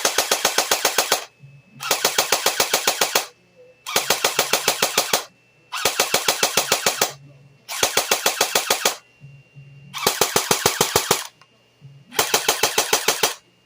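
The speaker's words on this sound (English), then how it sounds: "this is what the Tokyo Marui sounds like" A Tokyo Marui airsoft electric gun fires in repeated full-auto bursts, seven rapid mechanical rattling volleys of about a second each separated by short pauses, close and loud.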